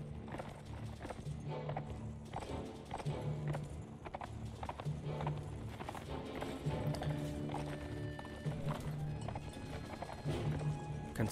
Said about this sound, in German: Ganz lockeres Trab, was wir hier machen.